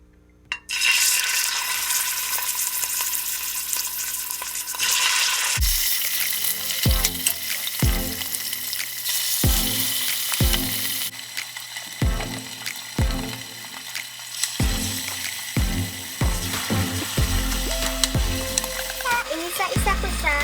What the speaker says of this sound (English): I'm gonna make my pork crispy, so I'm gonna fry them for a few minutes.